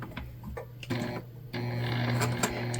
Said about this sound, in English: we're gonna start by stitching our lining base panel together